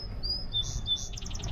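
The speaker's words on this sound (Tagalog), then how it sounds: "Rinig niyo yung mga huni ng ibon." Small birds chirping on a British Columbia island on a day trip, a few quick high tweets over a low outdoor rumble, moderately close.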